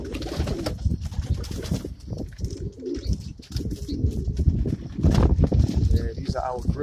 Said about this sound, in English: You gotta excuse these birds right here,